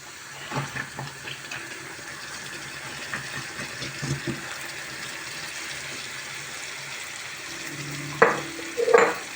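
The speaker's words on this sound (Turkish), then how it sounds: "Soğanlar yeterince kavruldu." Onions frying in a pan with a soft sizzle, stirred now and then with spoon scrapes and clinks, and a burst of louder scraping near the end.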